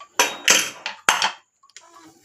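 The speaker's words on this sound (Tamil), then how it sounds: "இப்போது மூடியை திறந்துடுறேன்." After a pressure cooker has vented its steam following eight whistles, its metal lid is worked open with several sharp clanks and rattles close by, then a faint scraping as it comes free.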